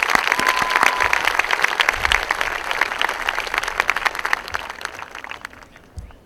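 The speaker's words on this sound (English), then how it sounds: "can we have another round of applause for those great student speakers?" A graduation audience for the class of 2018 breaks into loud applause that gradually thins and fades, with scattered individual claps near the end.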